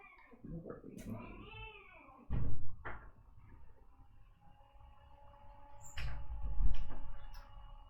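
A cat meows indoors in a room, a drawn-out, wavering call, amid thumps and knocks like a cupboard or door being bumped, with low background noise.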